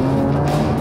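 A BMW M3 E46 with a limited-slip differential and robotized manual gearbox is driven hard, its engine droning loud and close with a steady low growl and faint tire squeal.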